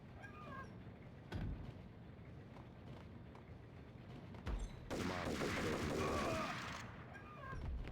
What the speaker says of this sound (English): I couldn't hear you over the gunfire, Max.